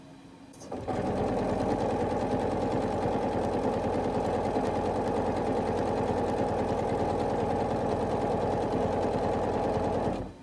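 A sewing machine runs continuously along quilt block seams, starting after a brief moment and holding a steady, close, loud whir until it stops at the end.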